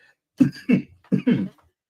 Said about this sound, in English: I keep trying to hold in a cough here.